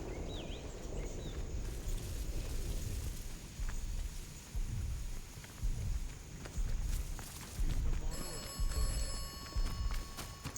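In the video game Atomfall, an old telephone rings with a trilling bell near the end, following footsteps and rustling movement through the scene.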